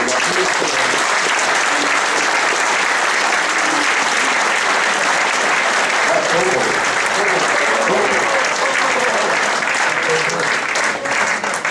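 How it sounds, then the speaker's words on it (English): An audience at a football club's 75th anniversary gala night applauds a guest, loud sustained clapping from a large indoor crowd that holds evenly from start to finish. "Please give him a round of applause."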